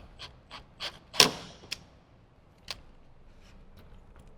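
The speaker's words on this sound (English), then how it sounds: "grab either our handheld manual screwdriver or an electric screwdriver and just gently tighten it up." Small screwdriver gently tightening a front camera mount screw on a Jeep Wrangler JK, a few faint creaking, clicking turns spaced irregularly, with one sharper louder click near the start and quiet pauses between.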